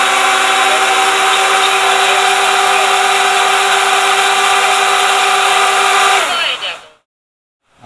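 Quadcopter motors on a CC3D flight controller hold a steady, loud high-pitched whine at reduced throttle after failsafe, then spin down and cut off near the end, leaving silence.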